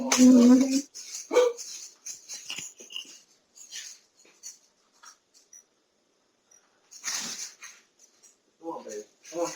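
Three dogs at home barking loudly and close by in short bursts, with a person talking over and between the barks.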